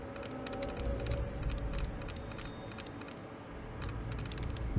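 Rapid clicky keystrokes from a computer terminal in the video game Fallout 4, typed in quick irregular bursts over a steady low background hum, no talking.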